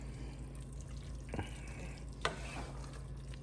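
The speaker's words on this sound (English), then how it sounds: "And we'll go ahead and stir this up" Tuna noodle casserole ingredients being stirred in a pan, a quiet steady sizzle with a couple of soft scraping strokes and a brief clink, no talk.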